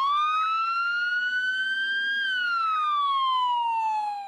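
A loud EMS ambulance siren on a Code 3 emergency response, one smooth tone rising slowly and then falling, sustained close and steady with no talk.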